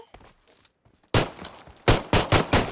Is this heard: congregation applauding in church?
no